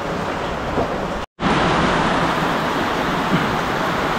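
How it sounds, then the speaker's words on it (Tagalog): Heavy rain pours steadily during flooding, a dense, loud, continuous hiss broken only by a split-second dropout before resuming at full strength. "Grabe, lakas ng ulan mga kapulido"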